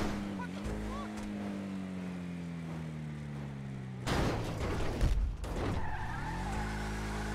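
A classic Bravado Gauntlet muscle car in GTA V Online drives with a steady engine drone, then its tires skid in a loud, rough burst before the engine settles again.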